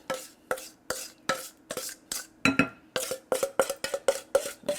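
A wooden spoon stirs flour into vegan, gluten-free chocolate chip cookie dough in a bowl, making a steady series of close, scraping thuds and rubs, about three strokes per second, with no talking.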